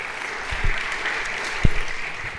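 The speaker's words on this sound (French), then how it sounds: "Vous pouvez l'applaudir également." A conference audience applauds as a hospital group director joins the stage, with sustained, even clapping from a sizeable crowd and a couple of louder close claps standing out.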